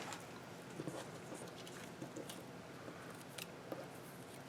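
Scissors snip through paper brush shapes cut for gel printing, faint and close, with a few soft irregular clicks and cuts over a quiet room hiss.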